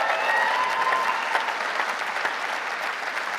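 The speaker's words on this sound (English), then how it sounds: "big cheer for Jackie" A conference audience cheers and applauds for a campaign co-chair at a Labour Party conference hall, steady dense clapping with a crowd roar that holds evenly loud throughout.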